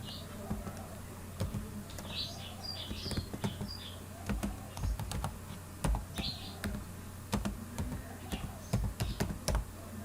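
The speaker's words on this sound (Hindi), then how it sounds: "अब यहाँ टाइप करेंगे" Keys clacking on a computer keyboard while typing into a Microsoft Word 2013 document, irregular close taps and clusters of strokes over a faint steady hum.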